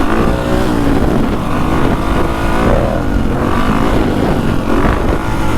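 A dirt bike ridden through Chicago, its engine loud and close, running continuously with revs rising and falling throughout, no talking.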